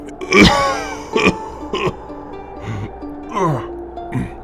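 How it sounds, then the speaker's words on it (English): A man coughs several times in harsh, throaty bursts with short pauses between them, close by and fairly loud. "moves his scarf to his face to stifle his coughs"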